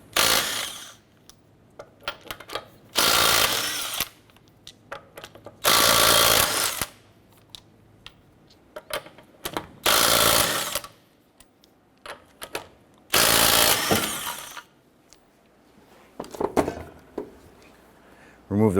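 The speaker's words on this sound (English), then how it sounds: "Using a 19mm socket, let's go ahead and remove our lug nuts." An impact wrench rattles lug nuts off a 2008-2012 Honda Accord front wheel with a 19mm socket, in four or five loud, separate bursts of a few seconds each, with quieter pauses and clicks between them.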